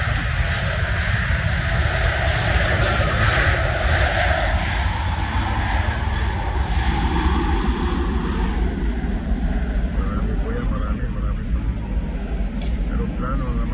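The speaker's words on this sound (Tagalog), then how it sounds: "Aeroplano po yan. Hindi po yan tutubi o bubuyo." An airplane taking off, with a loud continuous engine roar that holds steady throughout and a person talking over it.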